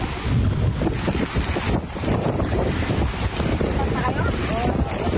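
Rough, continuous roar of wind and crashing surf along a shore, loud and steady, buffeting the microphone throughout.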